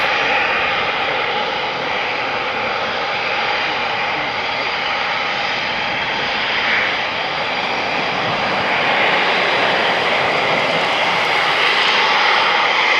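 A military aircraft engine runs on the ground at RAF Coningsby, a loud steady roar that swells slightly toward the end and continues throughout. Faint voices can be heard underneath it.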